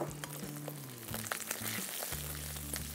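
About 100 grams of whole small onions (shallots) sizzle steadily in hot oil with curry leaves for a Tamil theeyal. Low tonal hums run under the frying, and no one speaks.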